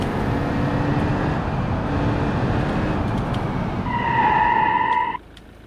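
A car with a 1.6 CD engine and manual gearbox drives in the BeamNG.drive video game, giving a continuous loud road and engine drone with whining tones rising near the end before the sound drops away abruptly.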